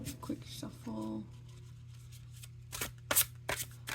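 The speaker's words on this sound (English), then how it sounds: "we'll give your cards a quick shuffle" A deck of tarot cards gets a quick hand shuffle, with a few soft riffling bursts and brisk card slaps close by, and low talking under the sound.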